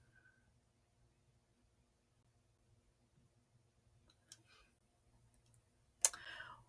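A computer mouse clicks a search button: near-silence, then a faint tick around the middle and a sharper, louder click near the end, with no talking.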